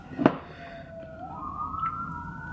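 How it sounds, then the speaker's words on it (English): A siren wails in the distance, its tone sliding slowly upward after a sharp knock at the start, with steady background noise and no talking. "why all the sirens"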